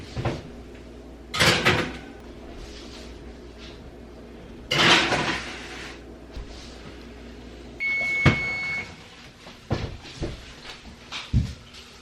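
Trays of homemade hamburger buns go into a preheated oven, with scattered clunks and metallic rattles, a beep, and a firm door thud, all close and moderately quiet.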